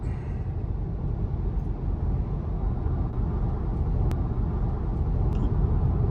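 Tesla Model Y accelerating up an on-ramp onto Interstate 26, a steady low road rumble and tire roar filling the cabin, gradually building slightly louder, with no one talking.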